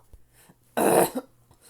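One short, harsh cough bursts out in the middle, followed by a quick catch of breath, otherwise near silence.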